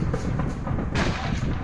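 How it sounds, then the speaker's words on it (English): Cover fire in combat near Bakhmut, heard as rapid overlapping gunshots and booming reports in a dense, continuous barrage that is loud and close throughout, without clear speech. "Lay down cover fire, our evac is out."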